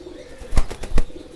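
A Deobandi pigeon beats its wings close by, two sharp, loud flaps about half a second apart against a quiet backdrop.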